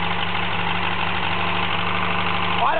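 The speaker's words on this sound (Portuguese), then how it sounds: "O motor rateando." Close, steady idle of a Volkswagen Saveiro engine running roughly and misfiring, a low droning hum with faint irregular pulsing throughout, no talk.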